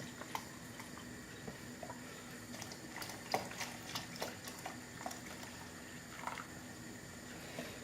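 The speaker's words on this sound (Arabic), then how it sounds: "نحط بقية الحليب في النشا إلا ما كبيناه كله" Milk poured into cornstarch while making oven-baked rice pudding (sütlaç), a quiet, steady liquid trickle with faint splashes and drips, with no voices.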